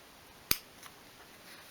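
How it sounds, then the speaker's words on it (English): Scissors give a single crisp snip through fabric while making a miniature 1/12 scale sewing bag. The snip is brief and sharp, with a fainter click just after, in an otherwise quiet room. "take the scissors and snip from that central line out to the corner"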